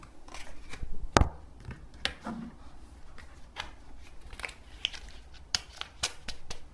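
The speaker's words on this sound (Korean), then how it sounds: "카드 정리하고 다시 카드를 뽑아 볼게요." Tarot cards are shuffled and tidied by hand, giving scattered soft riffles, taps and sharp snaps at an irregular pace, close up and fairly quiet.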